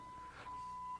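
A steady electronic beep tone at a single pitch from a 1970 Dodge Challenger car radio with an 8-track conversion, sounding twice with a short gap between, fairly quiet and clean with no voices.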